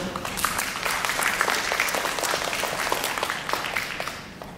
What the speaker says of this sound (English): Let's just give them a round of applause for appreciation